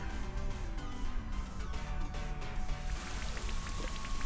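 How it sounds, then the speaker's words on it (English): Rain effect from the Rain Dance move in a Pokémon video game battle, a steady patter of falling rain over a busy game-music background, even and continuous throughout. "Thank you for setting up rain."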